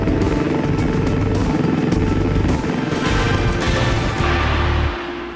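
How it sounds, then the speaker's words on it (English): A Helimed 99 air ambulance helicopter sets down in hilly country, with loud, close rotor thumping and engine roar that holds steady, then drops off sharply near the end. "Nice to be able to get the helicopter down."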